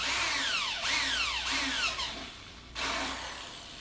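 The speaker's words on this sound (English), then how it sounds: "then start drilling." A power drill bores into a metal tamale pot being modified into a smoker, a loud close whine that rises and falls with the bit catching, briefly easing off before grinding on.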